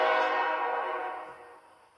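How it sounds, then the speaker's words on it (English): A train horn blares loud and sustained for about two seconds, then gradually fades as the train approaches along the tracks in a small town. "You hear that train coming?"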